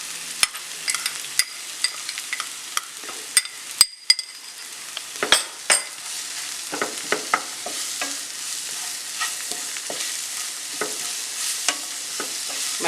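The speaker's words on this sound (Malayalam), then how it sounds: "മല്ലിപ്പൊടിയും ഈ കാന്താരിയുടെ എല്ലാം പച്ചച്ചൊവ ഒന്ന് മാറുന്നോളം വരെ ഇളക്കി കൊടുക്കാം." Coriander powder and bird's eye chillies are stirred into a pork curry in a pan, a steady frying sizzle under repeated sharp scrapes and clinks of the spoon against the pan, close and alone with no talking.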